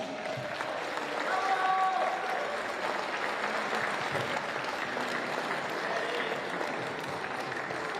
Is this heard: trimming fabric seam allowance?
no